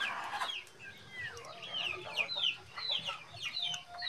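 Chickens on a farm give repeated clucks and squawks in close succession, a busy flock calling throughout with little pause.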